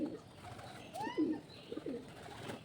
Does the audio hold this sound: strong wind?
no